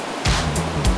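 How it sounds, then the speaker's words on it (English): Kakabeka Falls, a waterfall in Ontario, gives a loud, continuous rushing roar with brief surging swells over about a second of sound. "Beautiful set of falls."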